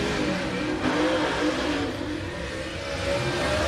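Race car on a qualifying lap at Pike County Speedway, a loud, steady engine roar at full throttle that swells slightly as it passes, with no voices.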